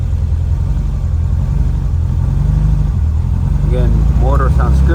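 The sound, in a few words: 1957 Porsche Speedster replica engine idling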